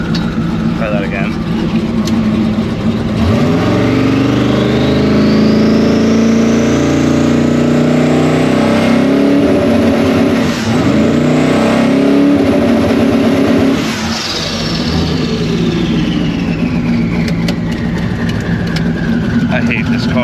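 A car engine revs up and down repeatedly, loud and close, its pitch rising and falling with throttle, while a voice talks over it.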